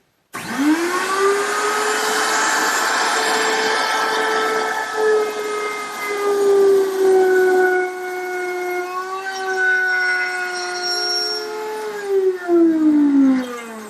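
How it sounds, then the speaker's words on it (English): A router cuts a deep mortise in hard wood for a chair table. Its whine is loud and sustained and dips in pitch as the bit bites in, then rises again over fourteen seconds, with no talking. "Now I'm just going to raise the router up a little bit to cut the mortise deeper"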